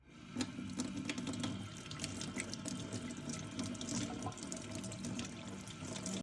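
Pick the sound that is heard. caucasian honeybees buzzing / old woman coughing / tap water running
tap water running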